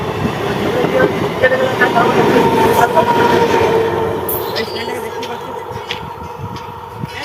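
A train rolls past close by with a loud rumble and clattering wheels that gradually eases away, with faint voices in the background.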